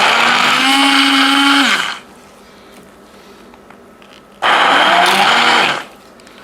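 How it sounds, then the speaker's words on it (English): A hand blender mixing cream for creamed corn whirs loudly for a couple of seconds, winds down, then after a quiet pause starts up again for another short burst. "So I've got my bowl with the cream and the hand blender here."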